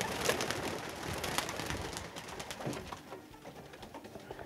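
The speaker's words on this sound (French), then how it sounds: "on va terminer sur un lâcher de pigeons voyageurs devant nous, dans le ciel lumineux de Tapona, avec Max Villette" Homing pigeons released into a bright sky in Taponnat, France, a soft burst of wing flapping and fluttering close by that thins out and fades as the flock flies off.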